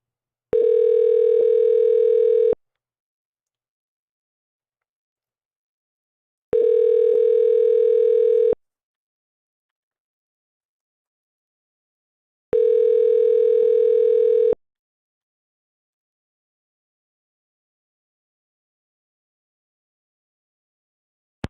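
Phone-line tone pulses while Google Voice connects a call: three steady two-second beeps spaced about four seconds apart, clean and alone with silence between.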